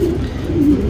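A champion-line patta tournament pigeon gives a short, soft, low coo up close against a faint background.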